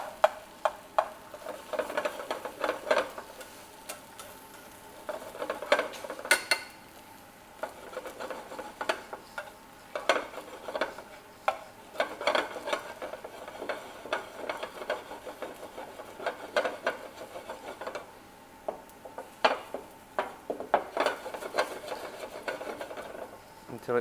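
Fried rice with egg being worked around a pan over low heat, with scattered scraping and clinking of a utensil and a soft sizzle, close and intermittent.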